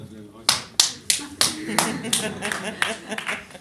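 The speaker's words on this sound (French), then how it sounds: "je vous applaudis, moi" A singer claps hands for the audience, about a dozen sharp, close claps in a loose rhythm, with a voice talking underneath and some room murmur between the claps.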